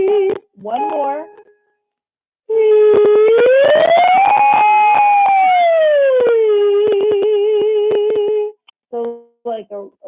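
A voice imitates a big siren, holding a long sustained tone that slowly rises and falls over several seconds, loud and close, with brief vocal sounds before and after.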